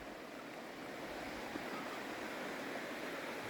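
Ten Mile River flowing beside a hiking trail: a steady, broad rushing wash of water, even and unbroken, fairly soft and without voices.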